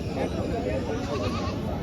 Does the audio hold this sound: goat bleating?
yes